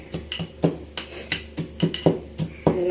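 Whole black peppercorns pounded coarsely in a mortar for a cold remedy, a dozen sharp, uneven thuds ringing close and loud, with no talk over them.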